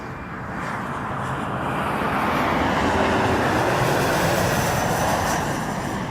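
An American airliner takes off from runway 05 at Toronto Pearson Airport, heard as a low engine roar from a distance that swells to a steady rumble and holds, with no voices.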